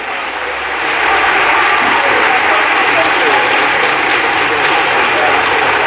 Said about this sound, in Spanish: Un fuerte aplauso para los niños.